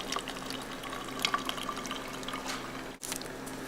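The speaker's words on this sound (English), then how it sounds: "take some warm water, previously heated, and place in the yeast" Warm water is poured onto yeast in a container, a quiet, close liquid fill with faint dripping that continues for a few seconds before a brief cut.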